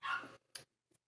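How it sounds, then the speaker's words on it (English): A dog barks indoors, one short faint yelp followed by a couple of quieter clipped sounds, brief and distant. "Sorry, my dog's not settled."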